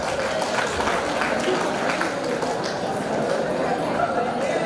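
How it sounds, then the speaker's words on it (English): Applause rises from the crowd at a college annual day as prize winners are announced. Dense, even clapping fills the whole stretch, close and sustained, with some talk mixed in. "Give them a big round of applause, guys."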